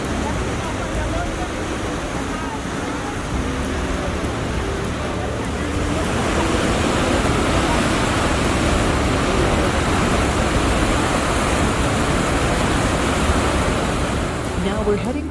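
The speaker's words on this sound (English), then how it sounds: "See that little boat getting dwarfed by the power of the Horseshoe Falls?" Steady, dense roar of Niagara's Horseshoe Falls, a broadband rush of falling water filling the whole clip and swelling slightly louder about midway, with no voices.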